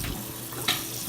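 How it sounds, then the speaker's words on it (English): Leftover water runs out through a sink drain being unclogged, a short gurgling trickle with a brief sharper splash near the end, close and moderately quiet. "Leftover water is coming out of the other side."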